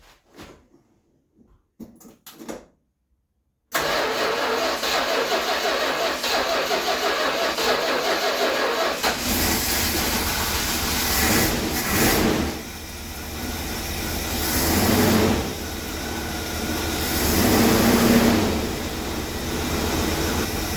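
Car engine with a Mopar 727 automatic transmission cranking after a few faint clicks and then catching, settling into a steady, fairly loud idle that swells slightly a few times.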